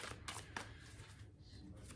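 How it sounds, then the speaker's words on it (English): Tarot cards being shuffled by hand during a reading, a series of soft papery riffles and flutters in short bursts, close and fairly quiet, with no talking. "I'll shuffle again."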